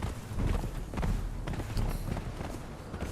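Hooves of a horse galloping in the video game Conan Exiles, a fast, muffled thudding patter that runs steadily from start to finish, close and fairly soft.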